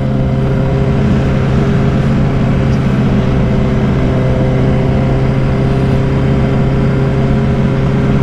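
A 2012 Honda CBR RR 1000cc sport motorcycle drones steadily and loudly while being ridden, with a constant engine hum mixed with rushing wind and no change in pitch.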